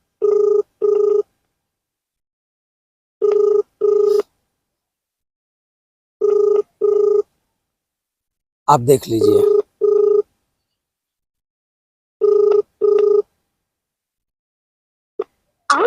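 A phone call rings unanswered, with repeated double ring tones in a steady pattern, loud and close, and a brief voice speaking partway through.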